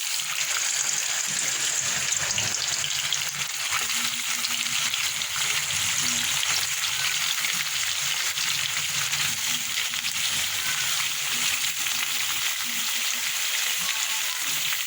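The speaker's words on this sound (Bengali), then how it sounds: "কালো জিরে আর শুকনো লঙ্কা ফোড়ন দিচ্ছি আগে আমি ফার্স্টে পনিরগুলো দিয়ে দেবো" Paneer frying in hot oil tempered with nigella seeds and dried chilli, producing a continuous, even crackling sizzle throughout at close range.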